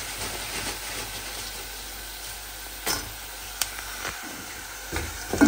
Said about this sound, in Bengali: পেঁয়াজ আর রসুন ভাজা হয়ে গেছে, এর ভিতরে আমি হচ্ছে চালকুমড়ার বড়িটা